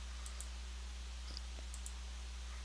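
A computer mouse is clicked during chart editing in JMP version 13 statistics software, a few faint, sharp, separate clicks close by over a low steady hum, with no talking.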